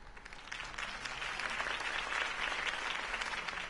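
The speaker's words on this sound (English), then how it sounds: "If only Mr. Wayne, my campaign's largest backer, could have heard that applause" Crowd applause follows a campaign speech in a Batman video game: sustained clapping from many hands, fairly distant and even, filling the whole stretch without voices.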